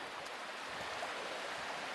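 Gentle, continuous rushing of river water flowing right beside a tent pitched at a riverside campsite, a soft steady wash with no talking.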